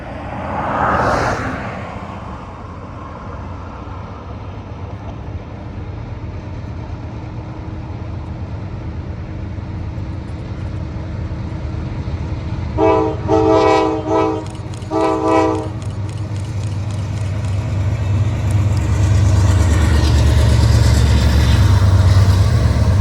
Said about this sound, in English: here comes the train into Rutherford College, North Carolina